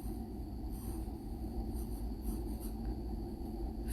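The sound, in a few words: writing a sentence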